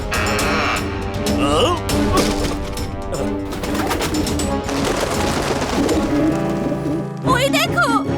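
Cartoon pigeons coo repeatedly in an animated show, the calls layered over a busy soundtrack of music and effects, with a sharper burst of sound near the end.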